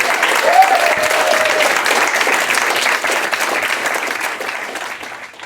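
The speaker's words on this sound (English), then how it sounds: "Big round of applause for Kevin." Sustained applause from an audience at a live interview event in Calgary, loud and even at first, then gradually tapering off near the end, with a brief voice cutting through early on.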